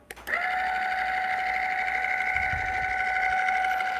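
A Turin SD40 single dose coffee grinder motor starts with a click and runs as a steady, even whine, close and fairly quiet, without a break.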